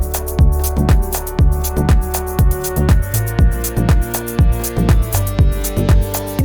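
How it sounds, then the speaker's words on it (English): Responsive percussion loop, layered and punchy, with steady repeating drum and percussion hits in a tight rhythmic cycle, loud and close with no voices. "I want you to listen percussions closely here."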